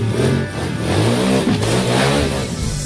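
A motorcycle engine revs hard and loud close by, rising and falling in a continuous throttle blip with no talk over it.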